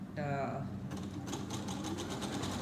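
A sewing machine stitches a curtain with a steady mechanical whir and rapid ticking of the needle, close by. Someone talks briefly over it at the start.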